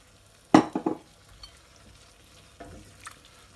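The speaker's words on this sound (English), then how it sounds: "I'm going to let it simmer again" A spoon stirs a kidney bean rajma curry simmering in a pot, with a quick burst of three scraping strokes, then two softer stirs and a faint background bubble.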